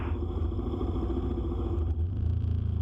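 A motorcycle rides over a rough, construction-torn stretch of road, its engine rumbling steadily while the ride clatters and jolts over bumps throughout.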